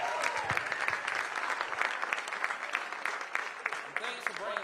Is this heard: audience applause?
yes